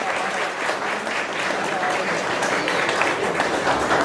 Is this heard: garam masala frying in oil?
no